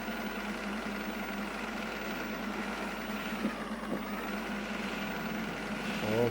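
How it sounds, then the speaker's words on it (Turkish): A low, even bus engine in the video game Bus Simulator Ultimate drones on steadily at fairly quiet volume, a constant mechanical hum with no clear changes, on a snowy road. "Otobüsümüz de sesi mükemmel yani."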